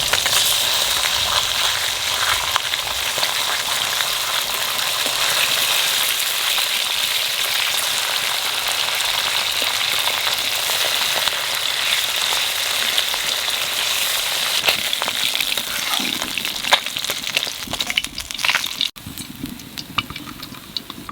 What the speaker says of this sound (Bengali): মাছ ভাজার সময় অল্প একটু তেল দিছি